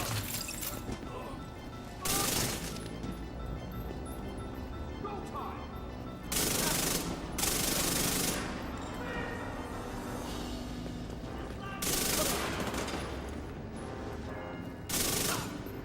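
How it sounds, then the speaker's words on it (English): Automatic gunfire in The Division 2 rattles in several loud bursts spaced through a dense game soundscape, with heavier volleys standing out near the start, middle and end. "Just throwing bullets at them."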